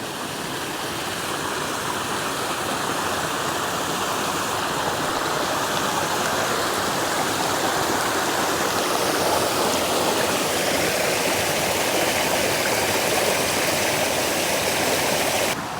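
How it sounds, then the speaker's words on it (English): A creek near a dispersed campsite in Pike National Forest rushes steadily, producing a loud, continuous broadband wash of flowing water that stays close and unbroken throughout, with no talking. "There's a creek right behind me."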